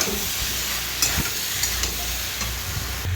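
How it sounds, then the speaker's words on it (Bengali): Chopped tomato sautéing in a pan with potato and aubergine: a steady, close hissing sizzle with occasional scraping stirs, no voices. "টমেটো কুচি দিয়ে আরেকটা আমি কষিয়ে নেব।"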